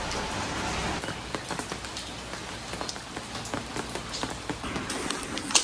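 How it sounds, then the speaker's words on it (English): Steady rain falls on hard surfaces, with scattered louder drops standing out over a constant hiss and no talking. "Man, this rain sucks."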